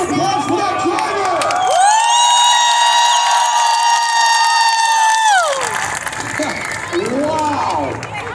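A crowd at a school bus race at Wisconsin Dells Speedway cheers and shouts throughout. A loud, sustained horn-like tone rises over them in the middle, then fades back into the crowd noise.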